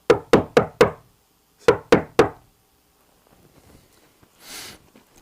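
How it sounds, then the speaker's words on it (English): Sharp knocks on a home theater room wall, four quick raps in a row, a pause, then three more, loud and close, followed by faint shuffling and a soft breathy noise. "I'm going to knock on the wall here."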